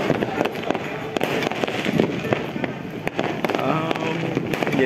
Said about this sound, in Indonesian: Aduh, kembang api di mana-mana.